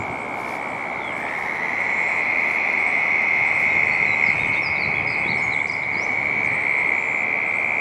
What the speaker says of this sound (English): You can hear them frogs.